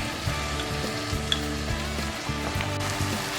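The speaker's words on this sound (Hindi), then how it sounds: "और अब हम इसको ऑयल सेपरेट होने तक पका लेंगे।" Tomato paste and spices cook in hot oil in a pan, making a steady close sizzle with soft stirring scrapes breaking through now and then, and no voices over it.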